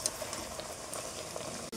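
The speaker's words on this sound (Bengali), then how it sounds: "আমি খালি এভাবে নেড়ে চেড়ে কুক করেছি" Soft sizzling and gentle stirring of mango pieces cooking in melted sugar in a pan for pickle, with no water added, heard close and quiet with a brief scrape near the end.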